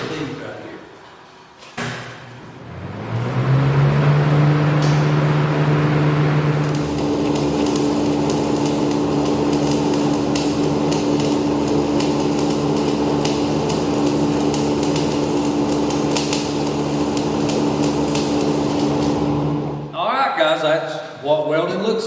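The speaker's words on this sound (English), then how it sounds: "So let's fire a machine up and run us a bead right here." A stick welding machine runs a bead, producing a loud, steady crackling buzz that holds for most of the clip after a few knocks at the start, close by with no talk over it.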